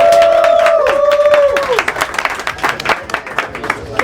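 Crowd applause and cheering with whistles at an airgun competition, loud and full at first, then thinning into scattered claps and shouts over the last seconds.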